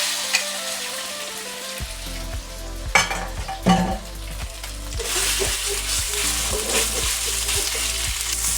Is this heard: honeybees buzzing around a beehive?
no